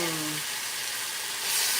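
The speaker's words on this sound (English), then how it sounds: "I'm trying to get a nice sear on it." Meat sears with garlic in a hot pan, a dense, loud, continuous sizzle and hiss that swells slightly near the end, with a brief low hum at the start.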